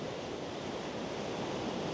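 Sea waves wash in steadily along a shore crossed by a bridge linking land and sea, a soft, even surf hiss with faint wind, no voices.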